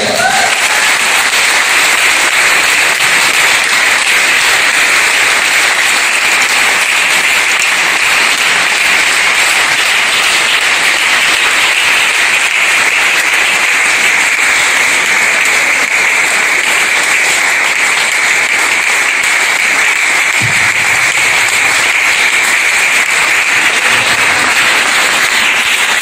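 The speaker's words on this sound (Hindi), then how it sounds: "जोरदार तालियां" A large audience at a Safe Shop business motivational event applauds loudly as top leaders are welcomed onto the stage, a thick, unbroken roar of clapping lasting throughout, with a faint low hum briefly underneath near the end.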